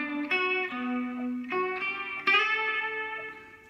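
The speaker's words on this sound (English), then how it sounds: "there's a little lead bit that comes in over the top of that intro that I've been working on" Electric guitar lead riff played over an intro, a few sustained melodic notes that shift pitch in steps with clear attacks, one brighter accent near the end, played alone and close with a slightly distorted tone.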